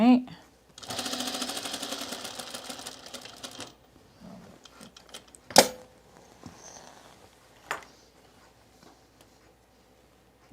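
A sewing machine stitches rows of shirring with elastic in the bobbin for an Azores dress, running in one fast, steady burst of about three seconds before stopping, followed by a few sharp handling clicks and knocks.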